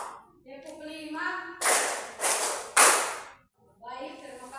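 Three loud, sharp bursts of children's hand claps fall in a steady counted rhythm in a classroom. Children's chanting voices come just before and after the claps.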